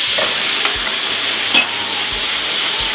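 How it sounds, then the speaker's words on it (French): Burger patty flambéed with whisky in a pan, sizzling loudly and steadily at close range with a brief flaring whoosh partway through and no talking. "Whisky. Flamme."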